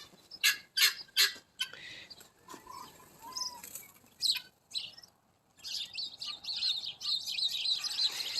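Farm ducks and other poultry call in a series of loud, bursty honks and chirps early on, then a steady chattering chorus of bird calls carries on behind them, close by and with no talk.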